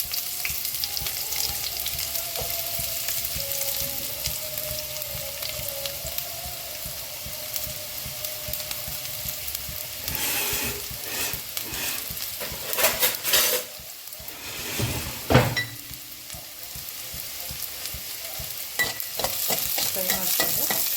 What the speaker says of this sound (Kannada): ಫಸ್ಟು ಆನಿಯನ್ ಹಾಕೊಳ್ತಾ ಇದ್ದೀನಿ.